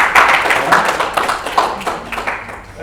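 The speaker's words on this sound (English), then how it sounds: "give Kerry a round of applause" An audience applauds a volunteer coming up on stage, a brisk burst of clapping that swells early and gradually thins out by the end.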